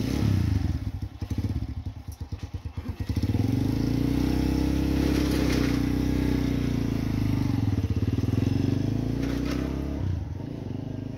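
A motorcycle engine runs steadily nearby on a beach house building site in the Philippines, a continuous low idling rumble with slight pitch swells and some clattering thumps early on.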